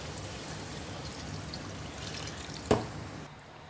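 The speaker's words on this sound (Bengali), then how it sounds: "এখন পানি দিয়ে দিব" Hot water pours into a pot of meat curry after the spices and two spoons of yogurt have been cooked down, a steady close trickle with a brief louder splash near the end before it stops.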